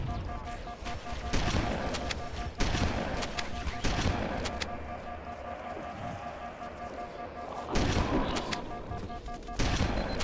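Shotgun blasts and rocket launcher explosions from the video game Halo 5 come as sharp, loud bursts spread over several seconds, with booming impacts and game effects between shots.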